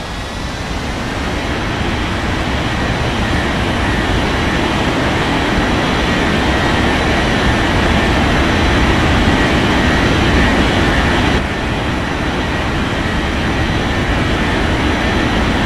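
An Air India airliner takes off from runway 20 left at Bengaluru, its engines a loud, steady broadband roar that holds for the full span with only a slight dip near the end.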